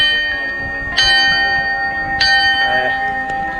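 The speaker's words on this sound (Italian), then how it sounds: "E qui abbiamo trovato una bellissima campana, vediamo se suona meglio di quella del Montasio." A metal summit bell on Monte Coglians rings out clear and bright, struck twice with long ringing decay between strokes, close and loud with no talk over it.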